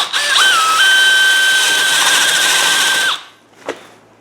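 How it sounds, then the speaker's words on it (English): Power drill fitted with a paddle bit countersinking into wood for a chicken coop build, a loud steady whining spin of about three seconds that winds down, followed by a brief knock. "Swap that out for the paddle bit"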